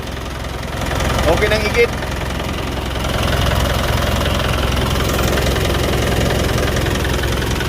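Freshly overhauled vehicle engine idling close by with a steady low rumble and slight knock, while someone speaks briefly over it.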